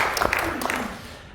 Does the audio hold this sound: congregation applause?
yes